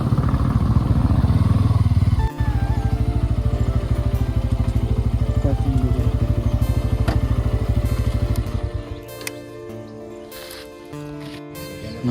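A motorbike engine idles loudly and close at a hill temple parking area, a steady throbbing putter that continues for several seconds before cutting out, leaving quieter background clatter and noise.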